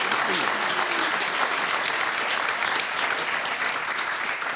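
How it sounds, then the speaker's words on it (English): An audience applauds a guest at an author event, dense sustained clapping that stays loud and even throughout, with a voice faintly audible beneath it. "can we just quickly give him a round of applause?"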